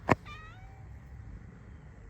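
A cat gives one short, loud meow, then a softer, drawn-out, wavering meow that fades within about a second, leaving quiet room tone.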